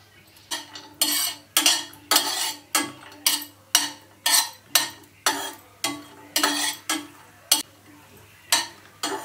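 Cashews fried in hot ghee are stirred in a pan with a utensil, giving a steady run of sharp scraping clatters about twice a second over a faint sizzle, close and fairly clear.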